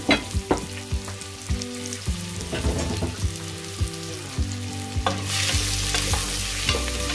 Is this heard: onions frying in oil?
yes